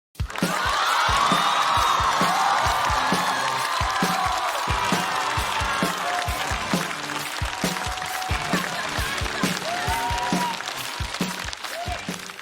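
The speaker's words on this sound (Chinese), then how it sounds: "我们掌声欢迎来自高校喜剧的鱼" An audience at a stand-up comedy show applauds and cheers to welcome a new comedian to the stage, sustained clapping with sharp hand strikes, whoops and music playing underneath.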